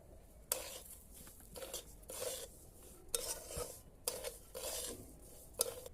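Broken wheat (dalia) is stirred with spices in a pan, with repeated scraping bursts of a utensil against the metal separated by short quiet gaps and only a faint sizzle underneath.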